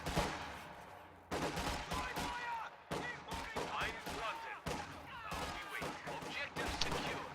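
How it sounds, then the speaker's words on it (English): Infantry rifles fire volleys in a strategy video game, with repeated close, sharp bursts of gunfire and crackling shots coming in irregular clusters over continuous battle ambience. "Volley fire does not work as usual."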